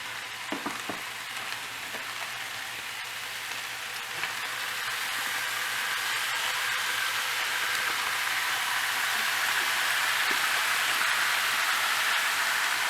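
Tofu dumped into mapo tofu sauce and gently stirred in a hot pan, giving a steady close sizzle and bubbling that grows slightly louder and fuller over time, with no talk.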